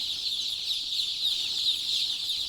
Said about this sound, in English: Sounds of chicks chirping are a good sign for any farm